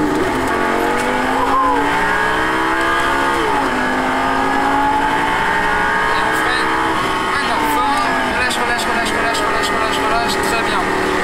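A Lamborghini Gallardo accelerates out of a corner on a race track, its engine note climbing in pitch through several gear pulls with a strong, close, continuous howl.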